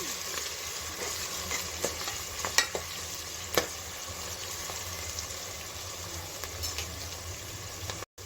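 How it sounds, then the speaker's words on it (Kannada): Ginger garlic paste frying in oil for a white pulao, a steady low sizzle with occasional stirring scrapes and light clicks, faint and continuous. "ಶುಂಠಿ ಬೆಳ್ಳುಳ್ಳಿ ಪೇಸ್ಟನ್ನು ಹಾಕ್ಕೊಳ್ಳೋಣ ಹಾಕ್ಕೊಂಡು ಇದ್ರ ಸ್ಮೆಲ್ ಹೋಗೋವರೆಗೂ ನಾವು ಹುರ್ಕೊಳ್ಳೋಣ ಎಣ್ಣೆಯಲ್ಲಿ"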